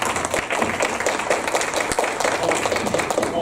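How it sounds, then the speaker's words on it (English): Audience applause in a hall at a talk on customer-driven design, a steady dense wash of many hands clapping at moderate distance, continuous with no pauses and no voices over it. "Hold the applause."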